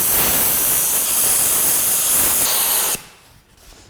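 Steady loud roaring hiss of a torch heating metal beside a chain screw, running for about three seconds before cutting off abruptly into near quiet.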